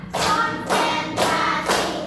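A classroom of pupils claps together on cue, four loud, evenly spaced group claps close by, each a broad smack with a short tail.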